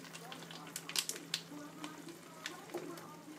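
Prawn curry with coconut milk stirred as it cooks, giving soft sizzling and bubbling with several scraping knocks of a spoon against the pan. It stays close and fairly quiet, with a faint voice in the background.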